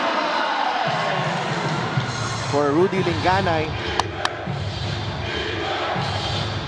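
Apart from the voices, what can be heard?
crowd shouting and cheering at basketball game in Batangas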